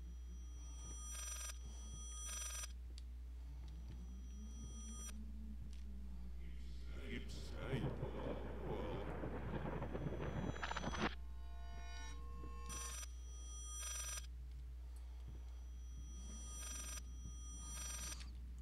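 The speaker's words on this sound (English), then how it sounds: "That'd be the world's most annoying ringtone." A house phone in the video game Layers of Fear rings in repeated bursts over a low steady hum, with a person talking between and over the rings.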